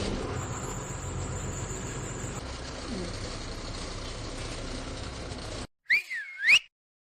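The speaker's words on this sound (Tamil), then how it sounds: "ஒரு ஆள் எதுக்கு இப்ப விசில் அடிச்சு நிப்பாட்டுறாரு?" A whistle blown to halt a departing bus, heard as a couple of sharp, warbling blasts after several seconds of steady engine and road rumble, then silence.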